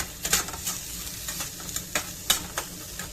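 Garlic, onion and paprika frying in a pan for Bolognese sauce, a soft continuous sizzle broken by sharp scraping clicks of stirring at an uneven rhythm, close and fairly quiet.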